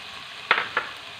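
Chopped onions dropped into a pan of frying carrots, two quick sizzling bursts over a low background hiss, close and fairly loud.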